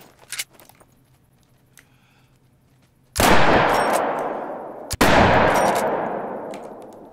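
Two loud, booming gunshots from a 10-gauge hunting gun in the hunting game The Hunter: Call of the Wild, about two seconds apart, each with a long rolling echo that fades slowly, after a quiet stretch of faint rustles.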